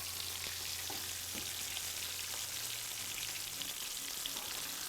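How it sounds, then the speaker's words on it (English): Filled tortillas pinned shut with toothpicks fry until crisp, giving a steady, close hiss of hot oil with a few faint clicks and a low hum beneath. "get the tortilla nice and crisp, filling nice and hot"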